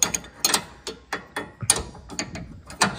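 Sharp, quick ratcheting clicks from an 18 mm wrench loosening a bolt on a 5th-generation Camaro during power steering work, close up, in short irregular bursts with brief pauses between.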